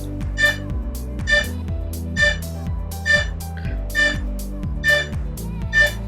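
A DJI Mavic Air 2 drone's locator repeats electronic beeps at a steady rhythm, roughly one per second, over a continuous humming tone with a stepped, looping pattern underneath.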